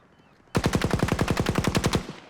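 A 6KU gun in Battlefield 2042 fires one sustained automatic burst of about fifteen sharp, evenly spaced shots from roughly 20 metres away, loud and clear over quiet game ambience.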